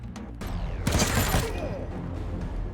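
Weapon fire in Wasteland 3: a sharp mechanical clack, then a burst of rapid shots with rattling mechanism sounds that fades into a low rumble.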